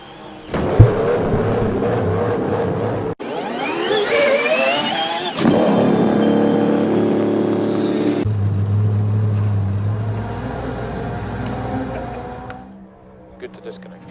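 A Cadillac hypercar engine revving through several loud surging bursts, climbing and falling in pitch, then settling into a steady harsh roar before fading.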